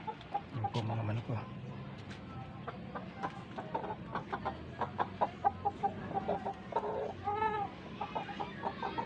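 Several chickens cluck repeatedly in short bursts, nearby, with one drawn-out squawk and quiet farmyard background.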